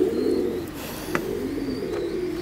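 A breeding pair of yellow swallow white-bar fancy pigeons cooing softly at close range, a low steady burbling coo with a brief sharp click partway through.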